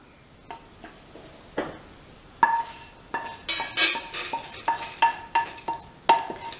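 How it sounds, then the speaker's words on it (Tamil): Leftover tubers dry-roasting in a pan, heard as a series of sharp metallic scrapes and clinks of a spoon against the pan, spaced irregularly and growing busier, with faint sizzle underneath and no talking. "இப்போ இதை வறுபட்டுட்டு இதை எடுத்துடலாம்"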